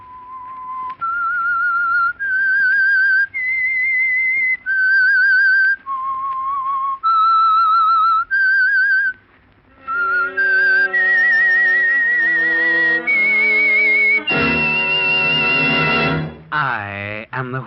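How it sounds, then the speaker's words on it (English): Loud, clear whistled theme tune of The Whistler radio mystery program, a slow eerie melody of sustained held notes that pauses briefly and then gives way to a fuller orchestral musical passage. "That whistle is your signal for the Signal Oil Program"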